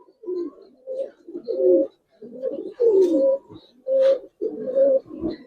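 Silver pigeons coo close by in a series of soft, throaty, rolling phrases separated by short pauses, loud and clear with no talking.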